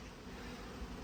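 Honey bees buzzing around a hive during queen rearing and nucleus colony setup, a faint, steady drone with no voices.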